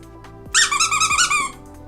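A plush ice-cream-taco dog toy gives one quick squeaker burst, a bright wheezing squeak lasting about a second, close up and loud against quiet background.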